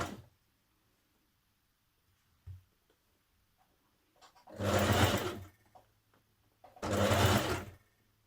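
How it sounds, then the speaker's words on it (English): A sewing machine top stitches along a skirt zipper in lightweight fabric, with two close bursts of rapid needle stitching about a second long each and quiet pauses between them. "You're going to top stitch up this side and it catches the other side of your zipping as you go."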